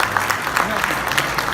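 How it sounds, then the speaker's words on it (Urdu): A mushaira audience in Doha applauds to welcome poet Shakeel Jazib. The clapping is dense and continuous, loud and close, with no pauses. "بھرپور تالیوں میں استقبال کیجیے جناب شکیل"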